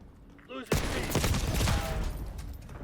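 A GPMG light machine gun fires in Black Ops 6 as one loud, sustained automatic burst after a brief quiet lead-in, with a voice partly heard over the gunfire.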